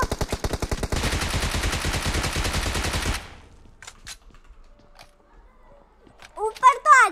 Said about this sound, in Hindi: वो नीचे से फायर कर रहे हैं